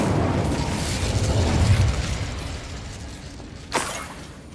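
An Incendio fire spell is cast in Hogwarts Legacy, a loud, dense roaring whoosh of flame that swells and then slowly fades. Near the end, one sharp, crackling burst flares up.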